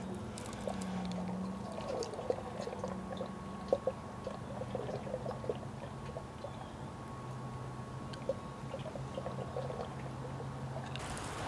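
Used transmission fluid pours steadily into a container during a fluid and filter change, a soft continuous trickle and patter that stays quiet throughout, with no talking.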